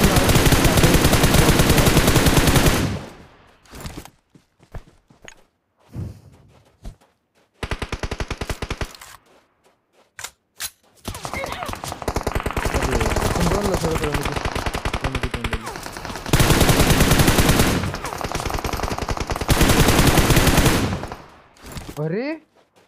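Long, loud bursts of automatic gunfire in a battle royale shooter fill most of the stretch, separated by brief quiet gaps and a few isolated shots.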